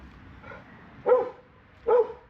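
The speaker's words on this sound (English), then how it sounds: "quit barking" A dog barks twice in sharp, moderately close bursts about a second apart, after a softer whine-like yelp at the start, with no talking.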